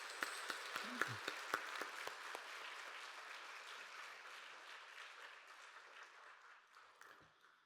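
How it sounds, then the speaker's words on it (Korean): A church congregation at a Sunday worship service applauds, opening with distinct loud claps that merge into a sustained wash of clapping, then gradually thins and fades toward the end. "큰 박수로 한번 우리 격려해 주십시오"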